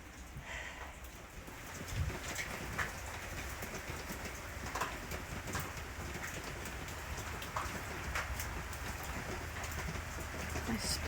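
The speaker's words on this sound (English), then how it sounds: "it keeps raining and not raining" Steady rain falls outdoors on a Scotland road trip, a continuous wash of patter close by, with a few bird calls coming through and nobody speaking.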